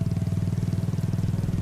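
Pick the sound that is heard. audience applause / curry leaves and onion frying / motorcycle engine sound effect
motorcycle engine sound effect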